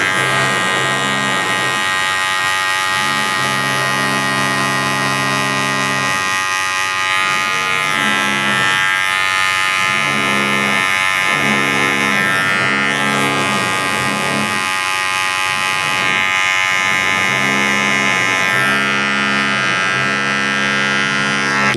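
Electric hair clippers cutting a military fade deliver a steady, close, loud buzz for the whole stretch, its tone wavering rhythmically as the blades pass through hair.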